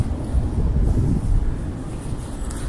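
Steady broadband storm wind roar buffeting the microphone outdoors, a continuous low rumble with gusty swells and no voices.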